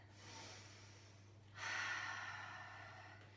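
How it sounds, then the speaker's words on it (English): A deep breath in during a yoga flow: a soft, airy inhalation, then a stronger, fuller rush of air, close and quiet against a low room hum. "Take a deep breath in."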